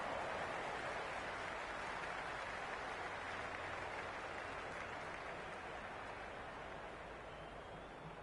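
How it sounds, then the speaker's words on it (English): Crowd noise from a cricket stadium crowd in the video game Cricket 26, heard during a T20 India vs South Africa match in Mumbai. A dense, steady roar of cheering and applause fills the whole stretch without letup. "the crowd have joined the party. It's pretty noisy at the ground"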